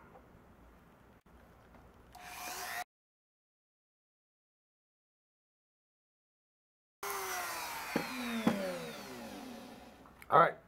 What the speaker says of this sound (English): I have some various diamond grinding tips, and now it's just a matter of refining the shape.